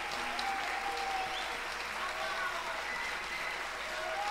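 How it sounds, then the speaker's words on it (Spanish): Audience applause for a violinist at a live concert in an auditorium: dense, steady clapping from a crowd, sustained and even throughout, with some voices faintly mixed in. "Un aplauso, por favor."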